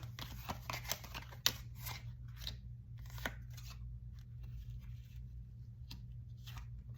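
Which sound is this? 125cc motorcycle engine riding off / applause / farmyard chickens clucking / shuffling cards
shuffling cards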